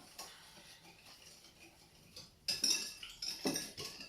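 Spoon or whisk clinking against a bowl while mixing lemon-flavoured pastry cream, quiet at first, then a burst of louder metallic scraping and clinks in the second half.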